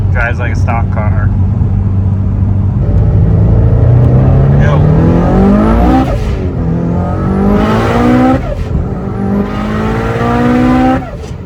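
An 850 whp Subaru Forester STI tuned on Haltech accelerates hard along a street, the engine climbing through repeated rising revs with gear changes between pulls, loud and close from inside the cabin.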